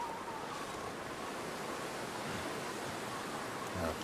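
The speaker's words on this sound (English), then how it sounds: "it's too windy" Wind in The Long Dark's snowy Canadian wilderness, a steady broad roaring rush that stays loud and even for several seconds with no voices.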